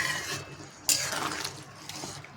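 A pot of water boils hard over a high gas flame while duck egg curry with papaya cooks, a steady bubbling rush with a few louder sloshing splashes close by.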